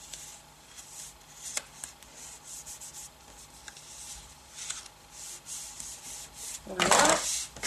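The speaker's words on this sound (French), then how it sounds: "je remarque le pli avec le plioir pour avoir quelque chose de bien plat" A bone folder presses a fold flat on a paper birth announcement card, giving soft, close rubbing strokes that end in a louder scrape.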